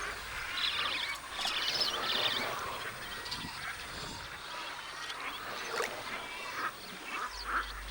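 Ducks, egrets, spoonbills, scarlet ibises and wood storks call in a busy chorus, loudest early on, then continuing more sparsely at a moderate distance.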